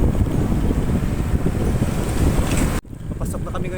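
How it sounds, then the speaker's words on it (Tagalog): Strong wind buffets a microphone on an open road ride near Morong, a loud continuous roar that cuts out sharply for a moment near the end and then returns more lightly. "Wow, ang hangin sarap."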